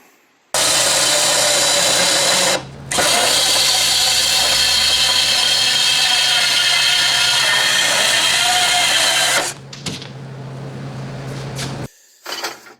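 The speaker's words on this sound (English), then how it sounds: "put nuts on the bottom of that and start welding that on." Welding a rear step plate onto a vintage 1948 tractor: a loud, steady crackling hiss runs for several seconds with one brief break, then stops and gives way to quieter shop noise.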